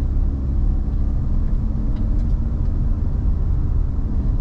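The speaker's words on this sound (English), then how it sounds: "So I'll just drive right now" Mazda RX-8 rotary engine on the move, a loud, steady low rumble filling the cabin without interruption or speech.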